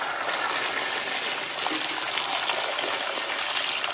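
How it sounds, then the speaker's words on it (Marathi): Water splashes and trickles steadily over potatoes being washed in a container, a continuous wet rushing close by. "आता आपण बटाट्यामध्ये पाणी घालून घेऊया"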